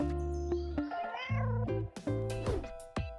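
A cat meows repeatedly in a veterinary clinic setting, its long, tonal cries rising and falling with brief breaks between them, close and clear.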